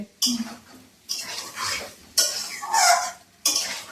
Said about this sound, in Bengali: মশলাটা একটু কষিয়ে নিয়ে এবার মা ফুলকপি আর আলুগুলো দিয়ে দিল